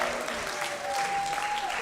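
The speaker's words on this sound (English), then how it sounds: "Round of applause" Audience at a comedy podcast taping applauds steadily, a dense, even wash of clapping with a faint whistle or cheer rising partway through.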